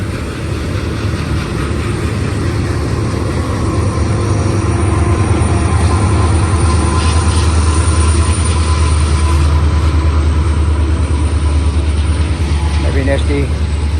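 Long Union Pacific manifest freight train with mid-train DPU locomotives climbing the steep grade to Cajon Pass, a loud continuous low engine rumble and steady roar of rolling cars, no speech.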